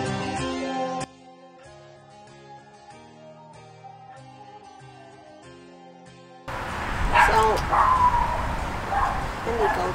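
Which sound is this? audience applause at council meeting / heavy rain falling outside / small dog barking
small dog barking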